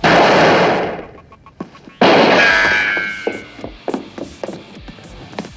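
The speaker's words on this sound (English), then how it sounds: "You've also got your gunfights." Gunfire from a Roger Moore-era James Bond film: a loud burst of shots, then a second loud blast with a ringing metallic tail, followed by a scatter of sharp lighter impacts and clangs.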